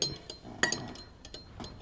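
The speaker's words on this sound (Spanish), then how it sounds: "Con esta varilla de vidrio" A glass stirring rod clinks against a glass during a carbon dioxide detection experiment, giving a few light, bright taps spaced unevenly over a quiet background.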